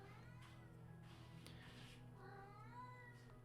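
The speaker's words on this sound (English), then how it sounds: "You hear my cat, can't you?" A cat meows close by indoors, a few drawn-out, wavering cries over a low steady hum, with no talk.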